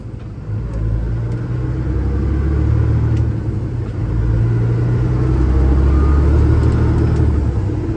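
Peterbilt 379 truck engine running with 50 pounds of boost, a loud, close, deep rumble that swells as it accelerates and keeps pulling steadily, heard alone.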